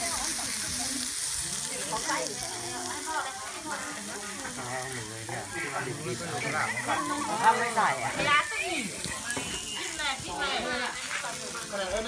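Steady frying sizzle of pork on a tabletop grill, with crackles and spitting across the whole stretch, with people chatting and clinking utensils nearby.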